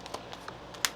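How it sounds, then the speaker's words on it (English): Tarot cards being shuffled during a reading, heard as a few quick, soft papery flicks and taps, the last one sharpest, close up with no talking. "One more shuffle."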